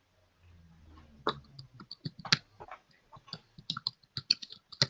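A computer mouse clicks in a quiet office-type setting, with a string of small sharp clicks in irregular clusters, some close together, near and fairly soft, after a faint low rustle.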